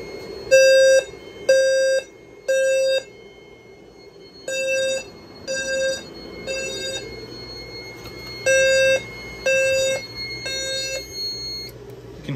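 A fire alarm system's sounder base blares in repeated groups of three loud, shrill electronic tones separated by short pauses, the pattern recurring several times with no speech.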